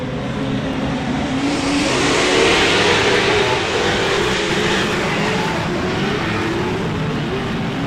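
A pack of 900-horsepower short course race trucks roars past at a race, a loud, dense engine drone that rises and holds steady throughout.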